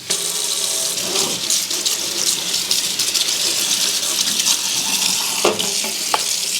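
Kitchen tap water runs steadily while hands are washed at the sink, a continuous close hiss with faint splashes and a couple of small clinks, no voices over it.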